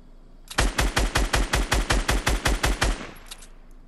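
A rapid burst of about fourteen close, loud gunshots rings out in Fortnite Battle Royale, an evenly spaced automatic volley lasting under three seconds, followed by a faint echo.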